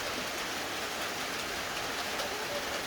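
Steady rain hisses evenly throughout, a dense continuous patter with no pauses.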